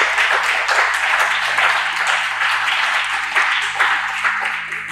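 A church congregation gives a loud, full burst of hand clapping in praise, many hands clapping steadily for five seconds and close to the listener, with faint crowd voices mixed in.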